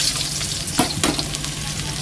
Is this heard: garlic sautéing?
yes